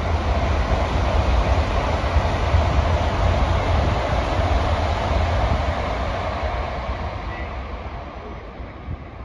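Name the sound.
Tokaido Shinkansen train roaring past Toyohashi Station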